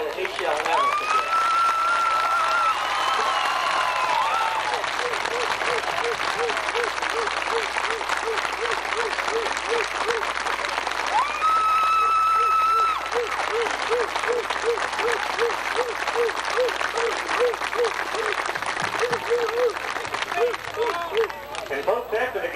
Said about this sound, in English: please join me in giving Mr. K.O. Stanton a big round of applause that he shall never forget